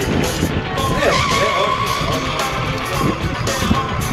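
A motorcycle skids its tires through stunts at the Athens Motor Show 2010, a loud, continuous rubbery screech with wavering squeal tones over steady engine and crowd noise, with a voice faintly in the background.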